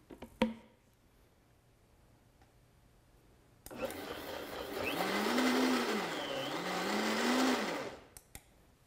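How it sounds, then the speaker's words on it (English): A countertop blender roars to life after a quiet pause, blending cashew cheesecake filling for a chocolate hazelnut cheesecake into a smooth cream; the loud motor pitch wobbles up and down for several seconds before cutting off. "then blend it until it's smooth and creamy"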